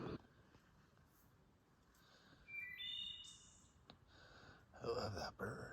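On a hazy, hot, humid evening along a ridge hike, a bird sings a short run of clear, rising whistled notes at a distance, followed by nearby rustling and breathy sounds.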